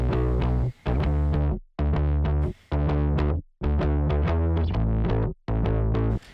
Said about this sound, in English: So this is a bass guitar, playing this bass guitar right here. Got some distortion.